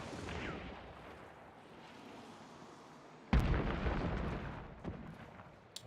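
Explosions in the video game Hunt: Showdown 1896: rumbling background blasts, then one sudden loud boom that rolls on, followed by a smaller burst and a sharp pop.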